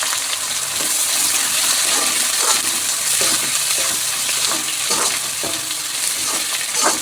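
Chopped onions sizzle and crackle in a hot wok while being cooked for fried rice with chicken liver and gizzard, a loud continuous frying hiss with occasional stirring scrapes, no voices.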